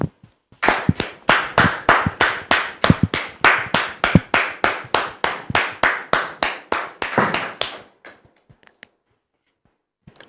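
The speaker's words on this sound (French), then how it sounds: "Le pasteur Jean de Dieu, que nous recevons sous vos applaudissements" Steady rhythmic clapping from an audience welcoming a pastor as a guest, loud and evenly spaced like hands beating together in time, continuing for several seconds before stopping abruptly.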